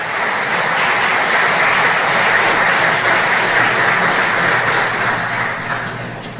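A crowd at the Tribute to Belizean Patriots 2025 awards ceremony gives loud, dense, continuous applause that holds steady for several seconds before easing slightly at the close.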